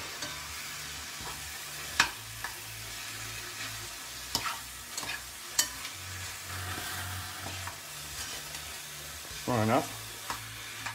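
Meat frying in a pan with herbes de Provence, stirred with a steady sizzle and occasional scraping clinks of the utensil against the pan, close up with no talk.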